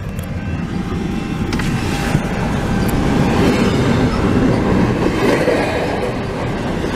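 CP freight train passing a crossing in Ile Perrot, Quebec, close and loud, with a steady rumble of wagons, rhythmic wheel clatter and faint squeals throughout, no voices.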